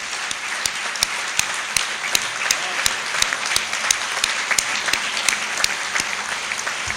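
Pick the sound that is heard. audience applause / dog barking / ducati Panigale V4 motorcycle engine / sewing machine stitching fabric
audience applause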